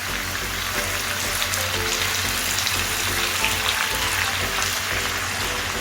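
Two medium onions, finely sliced, frying with chicken in a pan, giving a steady, dense sizzle that stays loud and even throughout with no voices over it.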